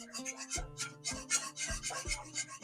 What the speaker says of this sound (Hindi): लो फ्लेम पर पकाएंगे इस मिक्सचर को गाढ़ा होने तक और साथ साथ मिक्स करते जाएंगे।